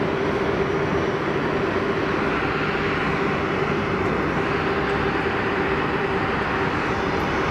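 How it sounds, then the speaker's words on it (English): A Canadian Airbus A330 airliner taxis at Geneva Airport, a loud, steady, unbroken engine roar with a whining tone running through it and no voices over it. "It's a Canadian 330 on the taxi."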